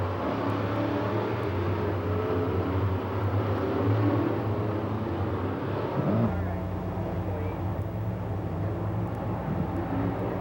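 Late model race cars in the O'Reilly All-Star Late Model Series roar around Lernerville Speedway, a loud, continuous engine drone from a full field of cars. The pitch shifts partway through as the pack moves down the back straightaway.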